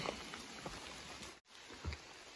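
Steady rain patters on surfaces along the Appalachian Trail during a thru-hike, a continuous close wash of drops with a brief dropout partway through.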